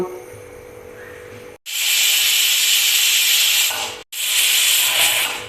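A pressure cooker whistle gives loud, forceful hissing of steam venting in two long bursts separated by a brief gap, close by, following a quieter stretch.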